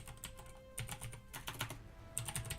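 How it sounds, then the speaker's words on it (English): Keys clatter on a computer keyboard in quick irregular bursts of typing, close and fairly quiet, with no talk. "If I can type."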